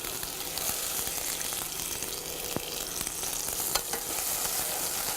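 Chopped onion hits hot oil with mustard seeds in a deep pan, giving a steady, close hissing sizzle with a few sharp pops and occasional stirring clicks. No voices.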